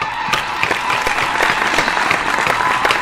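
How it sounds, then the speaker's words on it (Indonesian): A large concert audience claps continuously at a Gegar Vaganza 2019 show, a dense, steady wash of applause filling the whole stretch with no talking. "luar biasa penontonnya tepukan penontonnya gila"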